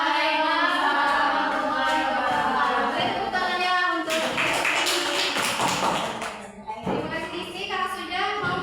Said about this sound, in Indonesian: Tepuk tangannya untuk